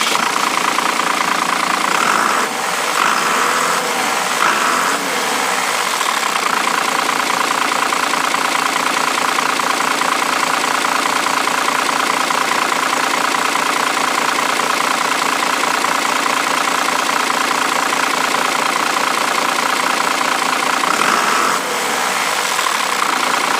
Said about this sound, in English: I am going to run the engine to show you the leak and the issue with the manual lever.